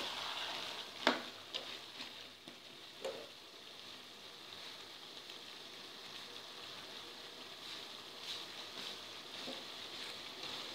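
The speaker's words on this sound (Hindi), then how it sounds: "आलू और मटर के साथ अच्छी तरह से कीमे को भून लीजिए।" Minced meat with potatoes and peas fries in a pan, a faint, steady sizzle like light rain, with a few soft stirring knocks near the start and no voices.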